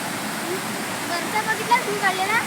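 Steady broadband rush of a village waterfall in the Konkan countryside fills the whole stretch, with faint voices and a few bird-like chirps riding over the constant water noise.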